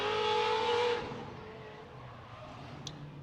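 The AutoZone BMW drift car at Formula Drift qualifying in Orlando, engine screaming loud and high at first, then dropping away into a fading roar, with a faint squeal from the tyres as it passes.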